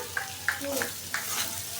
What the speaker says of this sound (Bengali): আমার জিরা শেষ, গুঁড়া ভাজা জিরায় তারা একটু এখন ভেজে নিলাম এখনকার জন্য